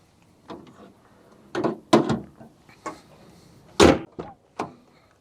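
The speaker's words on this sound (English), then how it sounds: "the doors open nice and large" A Nissan Cube Z11 car door is handled with a series of clunks and thumps, a louder latch and bang near the end, close by.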